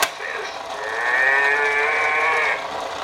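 A baby imitates a cow's moo: one drawn-out, tonal lowing call holding steady for over a second, close and fairly loud, with no other voice.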